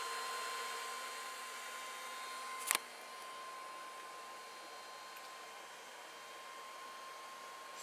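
A Sovol SV08 3D printer powers up with a steady, fairly quiet fan whoosh and a faint constant tone, interrupted once by a brief sharp click before the hum carries on.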